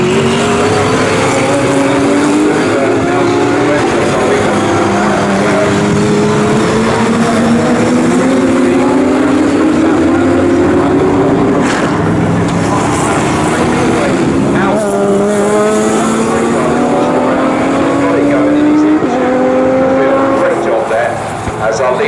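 GT Cup race cars at Snetterton roar in a dense pack, engines rising and falling through gear changes in a loud, continuous blare, with a commentator talking over them.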